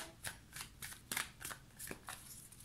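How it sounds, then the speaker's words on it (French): Oracle cards are shuffled and one is drawn from the deck: a quick series of soft papery riffles and flicks in irregular bursts, close and fairly quiet, with no talking. "Je vais tirer une dernière carte."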